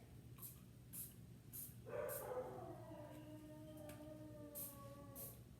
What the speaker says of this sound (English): Sorry for my dogs again.